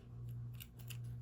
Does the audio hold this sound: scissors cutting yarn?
yes